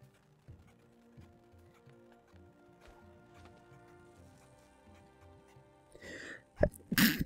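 A single sharp sneeze bursts out near the end, following a faint rustle, over quiet game music and effects from Knack.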